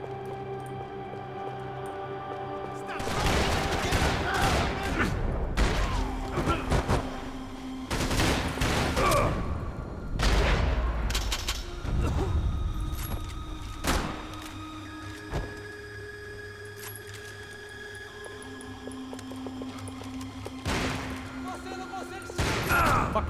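Sniper and other gunfire in Max Payne 3 cracks out in scattered sharp shots and short bursts against a steady in-game background, with talk in between.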